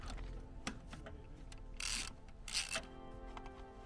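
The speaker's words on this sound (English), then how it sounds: "First thing to do is remove the intercooler. It's just 3 12mm bolts." A wrench loosening 12mm intercooler bolts on a Toyota 2.0 litre D4D diesel engine: close metallic ratcheting clicks and clanks in short irregular bursts, with a couple of louder scraping rattles.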